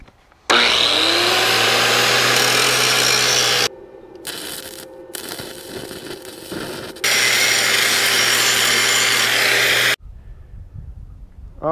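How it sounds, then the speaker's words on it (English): An upgraded angle grinder grinds metal on a Caterpillar D4 Hyster winch, running in two loud sustained passes with a rougher, uneven stretch of contact between them, then cutting off. "Had to upgrade the grinder"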